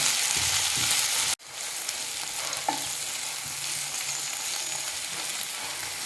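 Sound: okra sautéing in oil

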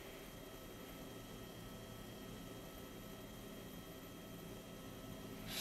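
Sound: helicopter flying, heard from inside, in video game DayZ mod

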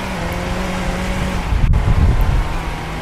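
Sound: car accelerating in Roblox Car Driving Indonesia video game

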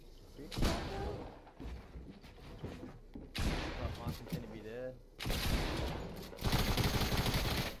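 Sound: shotgun gunfire in the video game Stormwars

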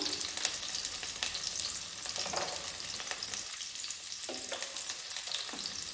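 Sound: frying tomatoes and garlic in a pan

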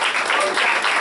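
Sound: church congregation applauding

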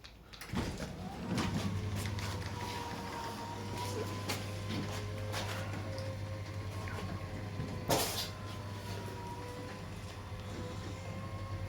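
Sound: Krispol K2 gate automation motor running

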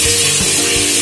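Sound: onion, ginger, garlic and green chili paste sizzling in mustard oil

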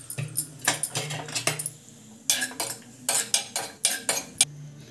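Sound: roasting cashews in a pan while stirring

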